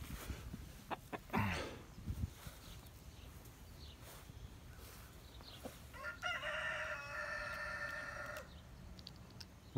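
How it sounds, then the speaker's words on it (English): Backyard chickens cluck and a rooster crows nearby, the crowing loud and sustained over a few seconds near the end after scattered softer clucks and rustling, with no talk. "Come on, chicky, chicky, chicky, chicky, chickies."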